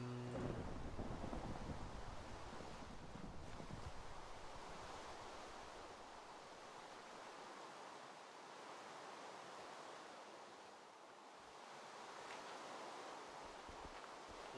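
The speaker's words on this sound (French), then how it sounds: "Super, en plus, il pleut." Rain falling in a video game, a quiet steady wash of hiss with low rumbling thunder rolling in the background, faint and continuous with no voices.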